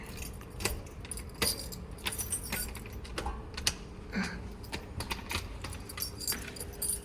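Keys jangle in short, irregular metallic bursts while someone searches for house keys at a front door, close and fairly quiet, with a faint vehicle rumble in the background.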